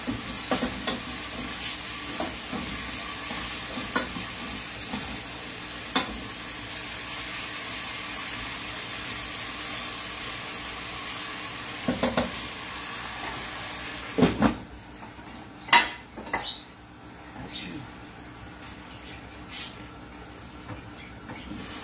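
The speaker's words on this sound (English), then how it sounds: "let's stir that up" Seasoned steak picado meat sizzles softly in a pan while being stirred, with scattered scrapes and clicks of the utensil over a steady frying hiss.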